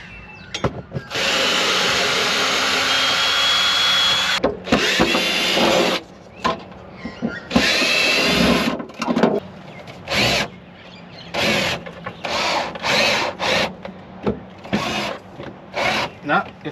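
Power drill driving Phillips head screws into an old Land Cruiser long parked on a dairy farm, heard as long loud whirring bursts followed by shorter stop-start runs, close up with a few voices between them.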